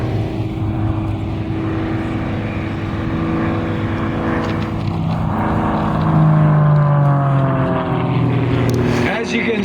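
A 360-horsepower propeller airplane climbs at a 2022 World War II Weekend airshow, its engine drone rising and shifting in pitch, loud and steady, while an announcer talks over it.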